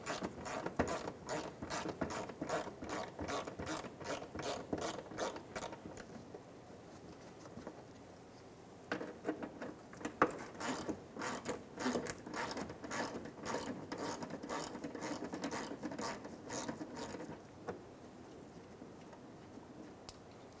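A ratchet backing out 10mm bolts from the front wheel arch molding of a 2014-2019 Toyota Highlander, rapid close clicking in long bursts with a short pause midway, heard alone.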